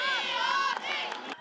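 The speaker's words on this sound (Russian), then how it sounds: "Ваши аплодисменты нападению «Патриота»." Fans at an American football game in a stadium, a loud, sustained crowd roar of cheering and shouting voices that swells and then fades briefly.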